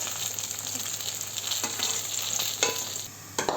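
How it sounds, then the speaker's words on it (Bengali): Pulao rice cooking in a pot with a spoon stirring through it, a steady close sizzle with scraping strokes and small clinks, no voices. "অন্য সাইডে আমি এই যে পোলাও রান্না করছি।"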